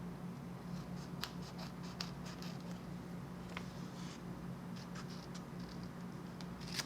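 Paper being trimmed with scissors to about 2.5 inches wide, a series of faint, crisp snips and scratchy cuts scattered irregularly over a low steady hum, with no talking.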